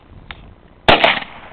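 A big gun fires a single loud, sharp gunshot that rings out briefly, with a faint click just before it.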